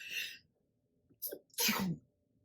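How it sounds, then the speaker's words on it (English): A single close, sharp sneeze, preceded by a brief breathy intake. "Excuse me, sorry, sneeze."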